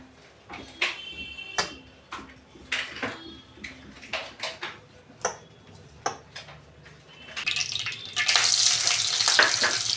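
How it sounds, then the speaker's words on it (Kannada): Onion frying in oil in a pan for egg sambar: scattered light clicks and taps give way to a loud, steady broadband sizzle swelling over the last couple of seconds, close and with no voices. "ಒಂದು ಈರುಳ್ಳಿ ತಗೊಂಡಿದ್ದೀನಿ ಈರುಳ್ಳಿ ಚೆನ್ನಾಗಿ ಫ್ರೈ ಆಗಲಿ"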